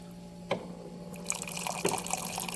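Hot water is poured into a glass holding milk, coffee and brown sugar, a close liquid splash that starts abruptly and runs on as a steady gurgling fill.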